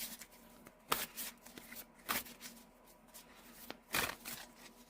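Witchcraft Therapy oracle cards are shuffled in several quick riffling bursts, close and fairly soft, with quiet pauses between the flurries and no talking.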